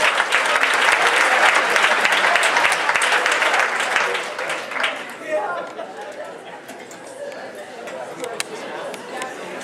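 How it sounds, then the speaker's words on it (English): An audience at a corporate talk claps in a loud, dense round of applause mixed with crowd chatter, fading to scattered claps and murmuring about halfway through. "Give yourself a round of applause"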